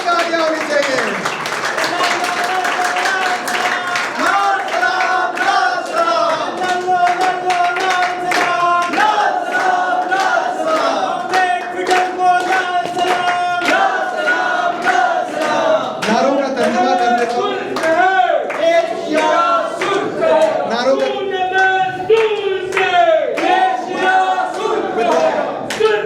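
An audience at a political rally claps and cheers in sustained, dense bursts, rhythmic applause mixing with shouting voices throughout, loud and continuous.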